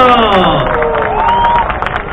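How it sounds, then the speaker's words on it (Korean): An audience applauds and cheers loudly after a tightrope-walking performance, a dense continuous roar of clapping and voices, with tonal sound sweeping through at the start. "박수 부탁드립니다"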